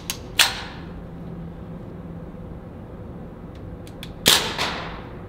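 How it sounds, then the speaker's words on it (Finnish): Two sharp, loud cracks from a firearm at a private shooting range ring out about four seconds apart, each with a short echoing tail, separated by a quiet outdoor hum. "Joten nyt ammutaan ensimmäisen kerran."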